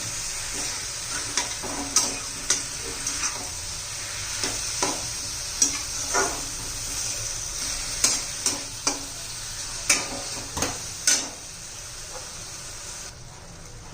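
Finely chopped fresh spinach sautéing in a pan over a high flame, a steady soft sizzle with repeated scraping stir strokes at an uneven rhythm, close and moderately loud with no talking.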